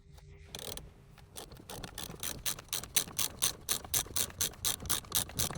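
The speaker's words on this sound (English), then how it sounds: "Then turn the wrench clockwise." A large ratcheting wrench turns the center screw of a steering wheel puller tool, giving a close, steady series of crisp ratchet clicks that quickens into an even rhythm after a brief quiet start.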